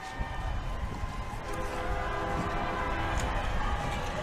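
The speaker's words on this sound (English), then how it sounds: "There's a lot of horns and honking in this parade." Horns honk in a Victoria Pride parade, blaring together over a dense, noisy crowd and street roar, fairly close and continuous.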